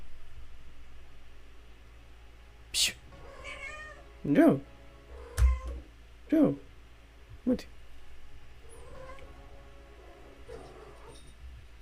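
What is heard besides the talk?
pet cat meowing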